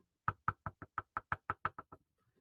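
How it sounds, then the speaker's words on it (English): About a dozen knocks on wood ring out in a quick, even series, close and clear, against a quiet background with no talk. "anytime you hear me knock on wood"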